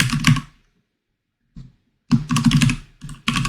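Typing on a computer keyboard while coding a React expense tracker: a quick burst of clicks, a pause, then two denser runs of close, crisp keystrokes.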